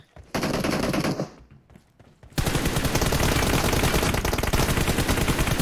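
An M249 machine gun fires in a team deathmatch video game, first as a loud sustained burst. After a short pause comes a longer, continuous stream of rapid gunfire.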